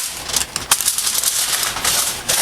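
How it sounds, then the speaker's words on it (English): Foil crinkles and rustles as it is peeled off a hot sausage and egg casserole dish, a bright crackly rattle, close and fairly loud with a few sharper crinkles. "we'll take the foil off"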